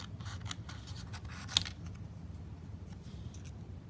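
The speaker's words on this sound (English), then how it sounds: "So I am literally going to hand cut that like this and cut off" Hand scissors trim a paper Christmas card sentiment, quiet close snips and rustling of card with one sharper cut, faint against a low background hiss.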